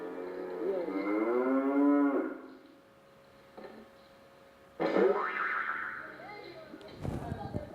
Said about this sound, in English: They're watering the cows.